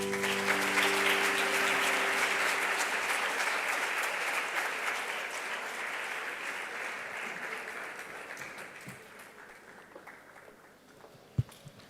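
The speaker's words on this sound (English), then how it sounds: "Let's applaud her one more time" An audience at a student TED-Ed talk claps after the speaker finishes, loud and dense at first, then gradually thinning and fading over about twelve seconds, with a single sharp knock near the end.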